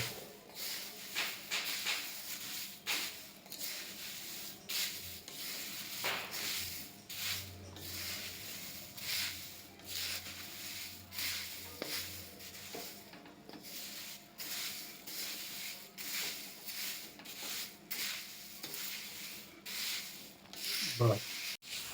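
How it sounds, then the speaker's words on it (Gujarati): Dry poha flakes mixed gently by hand with turmeric and spices for papad poha chevdo, a soft continuous rustling and rubbing with a few brief clinks, close and steady. "આને એકદમ હળવા હાથે આપણે મિક્સ કરવાનું છે"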